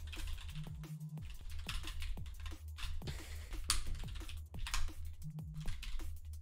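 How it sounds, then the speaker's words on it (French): Rapid keyboard shortcuts are typed on a computer keyboard, a close, dense run of clicking keystrokes with short bursts and pauses, recorded quietly with no talk. "On est chaud avec les raccourcis clavier."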